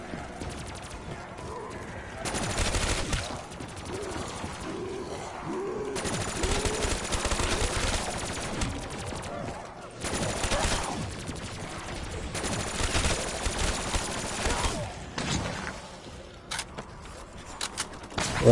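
Rapid automatic gunfire in Black Ops 3 Zombies, long sustained bursts that stop and restart several times, fairly close and loud, with a player's voice talking at moments.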